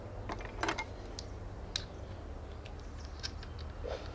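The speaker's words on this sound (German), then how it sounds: "Und jetzt schrauben wir das Ganze einfach wieder zusammen." Small metallic clicks, taps and scraping of parts as an AEA HPMax 9mm air rifle carbine is screwed back together, faint and close, with a low steady hum beneath and no talk.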